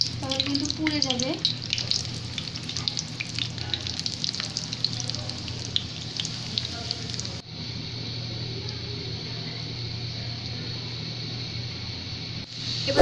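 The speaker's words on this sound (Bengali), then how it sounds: "এবার আমি কাবাবগুলোকে দিয়ে দেব গরম তেলে।" Egg shami kababs fry in hot oil with a steady, close sizzle that runs the whole time. A brief voice is heard near the start, and the sizzle changes tone partway through.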